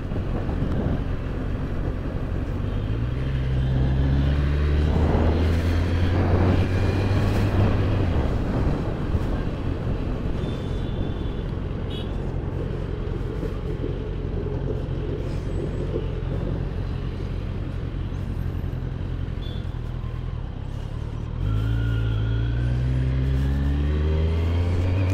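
A Kawasaki Z900 motorcycle accelerates at full throttle, its engine winding up through rising revs with gear changes, loud and close, settling into a sustained roar before revving up again near the end.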